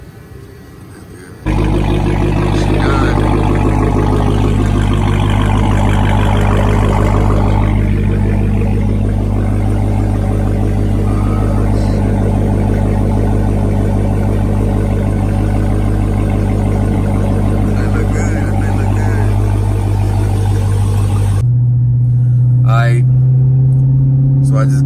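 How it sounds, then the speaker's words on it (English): A 2019 Dodge Charger Hellcat with its mid mufflers deleted rumbles loudly at close range, a deep steady engine drone that holds for about twenty seconds before cutting to quieter idle sounds. "So I just got the mufflers delete. That thing sounded mean. Can you hear it?"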